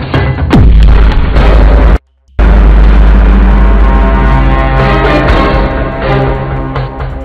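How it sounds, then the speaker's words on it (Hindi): A deep, very loud explosion tears through a crashed Black Hawk helicopter as it is deliberately blown up, with a heavy booming roar that rumbles on for several seconds after a brief gap. "उन्होंने नीचे पड़े क्रैश ब्लैक हॉक को उड़ा दिया।"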